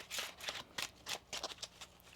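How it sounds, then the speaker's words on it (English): Tarot cards riffled and shuffled by hand close up, a quick run of soft papery bursts and flicks, quiet with no talking. "One more shuffle."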